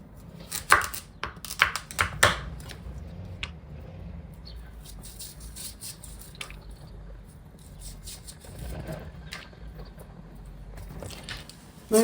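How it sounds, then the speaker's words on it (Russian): A knife slicing a pumpkin into rings on a board, a run of sharp crunchy cuts bunched early, then quieter scattered chops and handling noises, close and with no voices. "Тыкву нужно нарезать на вот такие колечки"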